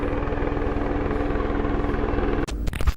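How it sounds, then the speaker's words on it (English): A helicopter approaching over a steep ridge, rotor beating in a rapid, even rhythm with a heavy drone, loud and near, then abrupt handling knocks and rustles at the end. "That helicopter's pulling in."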